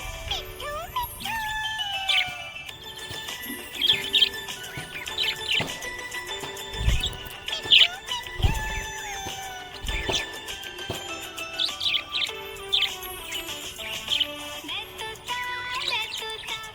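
A budgie chirps and twitters in bright, rapid bursts, close and lively, with short tweets and warbles repeating throughout over a faint background.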